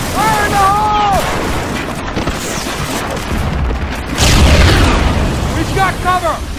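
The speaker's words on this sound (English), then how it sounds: "All right, Jones, let's blow this fence! Fire in the hole!" A demolition charge blows up a fence in Medal of Honor Frontline, a deep rumbling blast erupting amid ongoing battle noise, with shouted voices before and after it.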